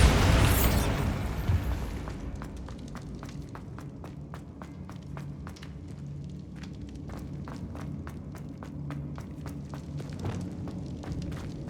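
A Bombarda blasting spell in Hogwarts Legacy erupts in a loud, broad explosive burst at the start, then fades into a steady game ambience with a regular tread of quiet footsteps.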